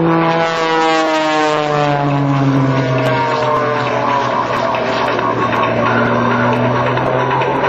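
Loud, droning engine of an aerobatic propeller airplane with a 350-horsepower Lycoming, at an air show, with a strong steady hum whose pitch slowly falls as it passes, continuous and close.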